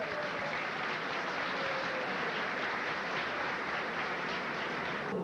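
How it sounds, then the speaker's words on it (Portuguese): A crowd applauds Padre Vitor at a religious tribute in Brazil, a dense, steady wash of clapping that holds evenly for the whole stretch with no break, some voices blending faintly into it. "Uma salva de palmas"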